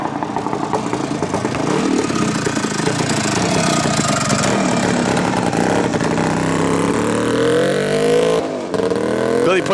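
A 1971 Husqvarna 360 Cross two-stroke motorcycle makes a high-speed pass, its loud engine revving and climbing in pitch, while wind rush and a voice can be heard alongside.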